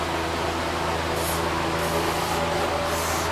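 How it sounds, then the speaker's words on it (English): Carb cleaner sprays onto the carburetor of an ECHO power tool in a continuous close hiss, steady and broadband over a low mechanical hum throughout. "Let's spray some carb cleaner on there."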